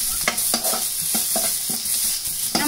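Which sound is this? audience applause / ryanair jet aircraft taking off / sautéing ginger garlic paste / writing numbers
sautéing ginger garlic paste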